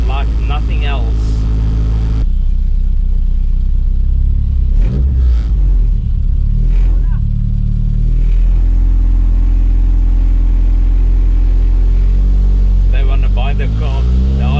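A Volkswagen Mk1 Golf with a 2.2L ABF engine on individual throttles revs loudly and up close, its engine note rising and falling through several sharp blips over a constant deep rumble.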